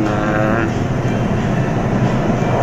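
A Kuala Lumpur LRT train on the Ampang Line gives a steady, loud, broadband rumble throughout with no break.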